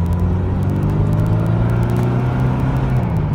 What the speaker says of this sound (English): the supercharger, of course, kicks right in, belt-driven boost, and gives you sort of instant pep from the get-go